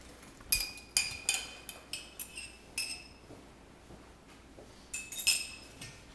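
Wooden spoon knocking and scraping in a bowl while mixing low protein bread mix with olive oil into a sticky batter, irregular clinks and taps spaced a fraction of a second apart, close and fairly quiet.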